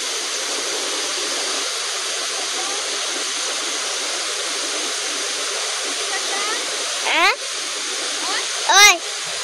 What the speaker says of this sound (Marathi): पळया गायज वॉटरफॉल आमचो